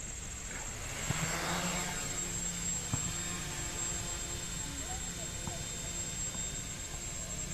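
Pixhawk-controlled drone hovering in altitude hold mode, a steady high-pitched whine of the propeller motors that stays even and continuous throughout, heard at moderate distance with faint talk beneath it.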